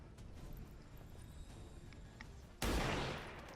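A single gunshot in the video game XCOM 2 cracks out loud and sudden after a quiet lull of low game ambience, then its echo tails off.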